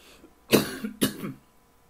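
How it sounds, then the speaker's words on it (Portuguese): Two harsh coughs in quick succession, close and fairly loud, from a person at the tail end of an asthma attack, with quiet in between and after. "Desculpem a tosse, ainda estou no fim de uma crise asmática"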